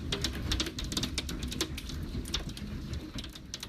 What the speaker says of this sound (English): that's the sound and the sights of some pretty large hail pounding down here in Minnesota, in Watertown